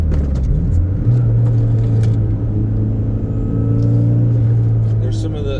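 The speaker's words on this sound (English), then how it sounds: "Love these turbo noises." A Toyota MR2 turbo engine drives a winding mountain road, a steady loud rumbling drone with a sustained low tone and occasional faint high whooshes throughout.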